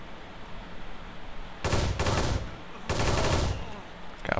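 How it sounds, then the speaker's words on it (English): Automatic AK rifle fire in the Kane and Lynch 2 video game: two loud, sustained bursts of rapid gunshots separated by a short pause, over low background game noise. "AK."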